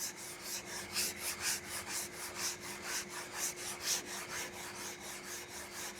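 Sanding block rubbing back and forth over polyester filler on a primed car panel, a quiet rhythmic scraping of about a dozen strokes, close and alone.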